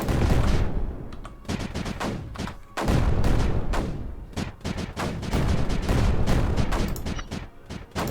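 Heavy, repeated booming cannon blasts in the video game Creeper World 4 fire in rapid bursts, loud and close, with rumbling explosions overlapping throughout.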